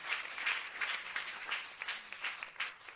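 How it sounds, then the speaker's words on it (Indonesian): A church congregation gives lively, steady applause at a moderate distance, the claps pulsing in quick irregular bursts for several seconds. "Boleh saya dengar tepuk tangan yang paling meriah"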